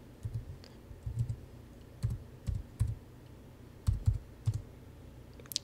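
Quiet, irregular keystrokes on a computer keyboard while an SSH password is typed, light clicks coming in small clusters with short pauses between them.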